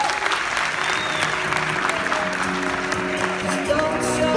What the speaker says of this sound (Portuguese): Aperta aplauso